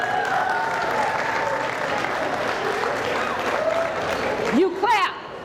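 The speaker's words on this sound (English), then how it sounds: "You clap" Audience applause at a Juneteenth performance, a steady wash of clapping heard at moderate distance with some voices mixed in, ending in a brief whoop.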